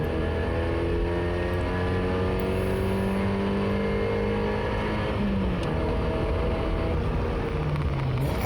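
A Mazda MX5 races at Oulton Park with its engine held at high revs, a loud, steady whine that rises in pitch, briefly drops at a gear change, then climbs again.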